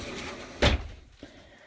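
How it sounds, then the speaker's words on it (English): Cabinet doors inside a Winnebago Minnie 2401RG travel trailer are unlatched and opened, giving a single sharp knock or clack up close, followed by a faint, softer tap a moment later. "this lock here that you click over when you're moving, and it keeps these doors from moving and travel"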